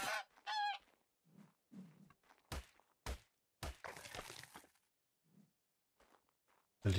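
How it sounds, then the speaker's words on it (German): Dodo birds call in the video game ARK: short honking, goose-like squawks come in a few separate bursts, mixed with game thumps and footstep-like knocks, at moderate loudness with no talk. "Oh, da sind mehrere Dodos, perfekt."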